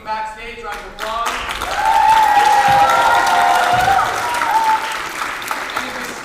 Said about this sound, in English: I would like to thank Annalise and Lars, working backstage, round of applause